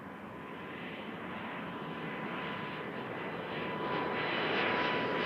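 A Porter Airlines Embraer 195-E2 jet at Toronto Pearson Airport gives a broad, distant engine rumble that swells gradually louder across the few seconds, with no voices over it.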